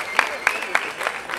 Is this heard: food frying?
no